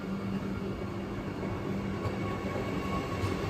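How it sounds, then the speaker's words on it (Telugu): A MEMU train on the Khammam to Bhadrachalam Road line rumbles steadily as it picks up speed, with a dense, continuous low roar of wheels and motors heard from on board. "చూడొచ్చు ఎంత స్పీడ్గా మూవ్ అయిపోతుంది ట్రైన్."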